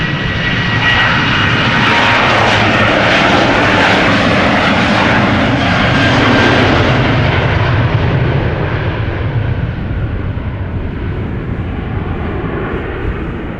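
A KLM Boeing 737-800 jet airliner departing Amsterdam Schiphol roars loudly with engine thrust, a sustained powerful rumble that holds steady before slowly fading as the aircraft climbs away.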